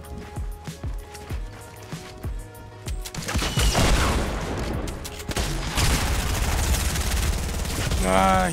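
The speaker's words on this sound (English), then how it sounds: "He landed a good shotty on me." Fortnite gunfire erupts in a dense, chaotic burst of repeated shots and impacts after a quieter stretch of scattered clicks and footsteps, loud and close, with a rising whistle near the end.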